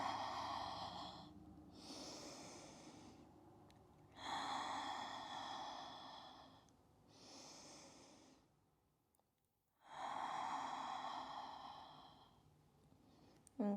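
Slow, deep yoga breaths held in pigeon pose: a few long, soft inhales and exhales, close and quiet, with pauses of near silence between them.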